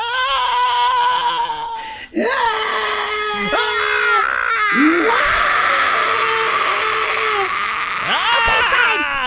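A voice imitates a screaming blanket with wailing, sobbing cries and shrieks that rise and fall over several seconds, loud and close, with a brief break partway through.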